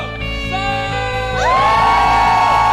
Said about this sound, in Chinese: 我们要更大声的来欢呼赞美我们的神